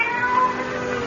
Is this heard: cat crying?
yes